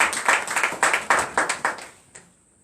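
A church congregation clapping in rhythm during a night prayer service in Benin, a brisk run of about a dozen claps that stops abruptly, leaving a short quiet tail.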